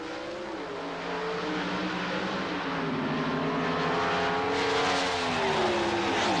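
A drag racing car launches down the strip on a national-record 7.31-second run, its engine roaring loud and continuous with a rising, sweeping pitch as it accelerates away.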